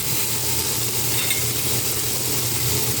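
Saluyot (jute leaves) and tofu cooking in a pan give a steady, even sizzle that runs unbroken throughout, close and moderately loud with no voices.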